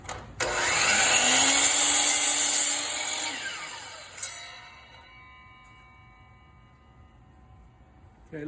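A power saw cuts a 45-degree angle through wood for an Adirondack chair, its motor whining loudly for about three seconds before spinning down, followed by a sharp clack and a long fading ring.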